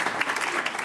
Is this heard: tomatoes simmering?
no